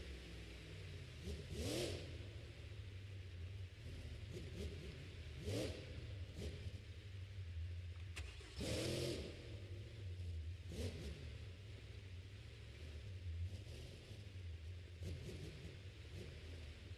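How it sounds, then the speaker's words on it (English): A monster truck engine revving in a stadium arena as the truck turns around for another hit, with repeated throaty bursts of throttle over a low rumbling idle and crowd ambience. "Turning the truck around, he's going for a second hit."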